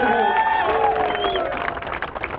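A crowd at a Karunadu Premier League cricket event in Hubballi claps and cheers for a player, the applause rising briefly over a loud public-address voice and fading under it.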